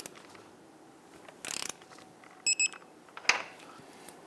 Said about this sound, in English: Torque down our horizontal bolt to 96 foot-pounds.